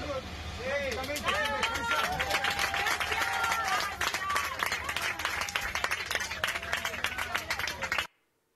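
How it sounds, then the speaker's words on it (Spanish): An audience applauds an airplane crew at an Argentine political address, a dense sustained clapping with crowd murmur that fills the room for about eight seconds before cutting off abruptly, while someone speaks over it. "pido un aplauso particular a la dotación del avión"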